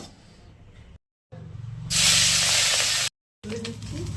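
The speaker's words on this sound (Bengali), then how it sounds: "এবার লবণ হলুদ মাখিয়ে নিয়ে ভেজে নেবো মাছগুলো।" Fish rubbed with salt and turmeric frying in mustard oil in a kadai, a steady loud hiss and sizzle swelling up midway after a softer start, with brief gaps of silence.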